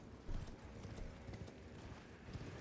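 Horse hooves clip-clop steadily as a mount gallops in the video game Elden Ring, a quiet, even rhythm against a dense background of game ambience.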